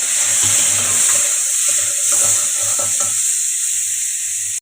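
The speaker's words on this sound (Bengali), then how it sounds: "এবার ওই তেলটাতেই সোয়াবিনটা ভেজে নেব" Boiled soybean chunks frying in hot oil, giving a loud constant sizzle with a few stirring knocks and scrapes, close up, no talking.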